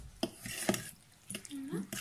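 Quiche filling with lardons is stirred in a bowl, making a few sharp clinks and scrapes of a utensil against the bowl, close and fairly quiet, with a faint voice briefly in the background.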